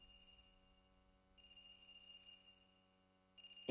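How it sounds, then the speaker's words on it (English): A phone rings in AI: The Somnium Files, a faint electronic trilling tone that sounds in two bursts over a quiet tonal ambient hum, with a sharp click at the very end. "Is that a phone ringing?"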